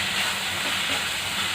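Dry spices (turmeric, chili, coriander, cumin and black pepper powder) sizzle in a pan for chatpata keema with a loud, continuous close-up hiss of frying.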